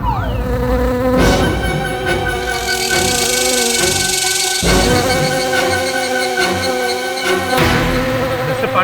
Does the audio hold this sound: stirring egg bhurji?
no